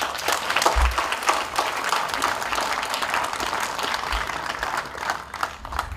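An outdoor political rally crowd in Girgarre–Kyabram claps and applauds steadily, a sustained close wash of hands with a few low bumps, and no one speaking over it.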